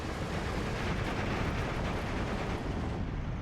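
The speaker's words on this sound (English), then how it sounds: "it looks like we're going to get hit with 152mm off map" A 152mm off-map artillery strike in the Steel Division 2 WWII strategy game: a dense, sustained, loud rumbling barrage of blasts that runs without a break and eases slightly near the end.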